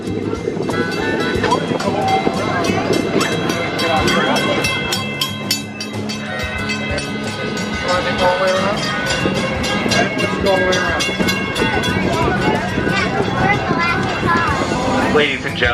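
Walt Disney World Railroad steam train rolling into Frontierland Station, with a steady loud rumble and clatter of railcars throughout, overlaid by bright whistle-like tones and a dense wash of park noise.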